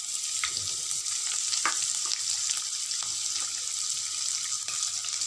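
Chopped carrot, beans, green chilli and ginger sauté in a hot pan with a steady, close sizzle, broken by occasional sharp clicks and scrapes as they are stirred.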